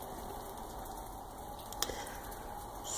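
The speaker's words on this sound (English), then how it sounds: "it started raining." Rain falling outside during yard work, a faint steady patter with a brief sharp drip or tap partway through.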